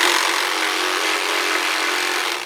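A Sawzall reciprocating saw cuts through sanitary plumbing pipe with a loud, steady, harsh buzzing rasp close by, holding constant before easing off at the very end, with no talking.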